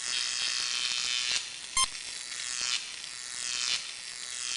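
A jammed gear mechanism in the Star Trek 25th Anniversary video game gives a steady mechanical whirring hum with rhythmic ratcheting pulses and one sharp click near the middle.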